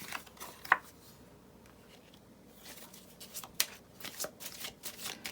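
Tarot cards are shuffled and drawn during a pick-a-card reading, giving soft close riffling and a few light snaps and taps of cards in a quiet room.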